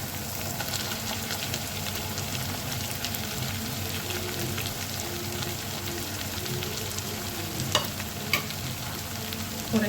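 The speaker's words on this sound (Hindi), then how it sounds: "और अच्छे तरीके से मिक्स कर लेंगे इसको।" Chicken and mashed boiled potato are stirred together in a frying pan, giving a steady scraping and sizzling that runs without a break, with a few sharper clinks near the end.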